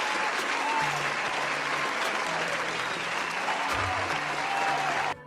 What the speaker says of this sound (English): let's give him a round of applause for trying to teach the youngins.